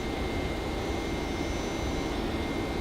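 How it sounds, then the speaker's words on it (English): Steady broadband wind rush over a climbing airplane in the X-Plane 10 flight simulator, a continuous even roar with no talk, filling the whole stretch at moderate level. "Why do I have wind noise still?"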